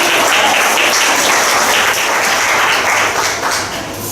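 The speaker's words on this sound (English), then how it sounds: "You can clap if you want to" Hearty applause from the audience at a Seattle Central College ceremony honoring the college president, a dense, close wash of clapping that holds steady before easing off slightly near the end.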